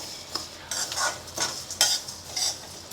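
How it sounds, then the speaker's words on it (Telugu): Coriander seeds and cumin seeds dry-roasting in a pan, stirred so the seeds rasp and scrape against the metal in repeated close bursts over a light sizzle, with no talking. "25 గ్రాములు జీలకర్ర అంతా వేయించేస్తాం మంచిగా."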